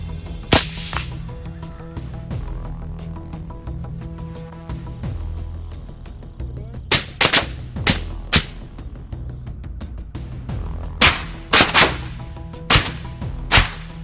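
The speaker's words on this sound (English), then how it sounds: "The gunshots rang out." Rifle shots ring out at a herd of wild boars on a windy, drizzly night, sharp loud cracks in clusters over steady background music.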